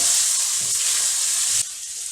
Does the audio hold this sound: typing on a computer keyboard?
no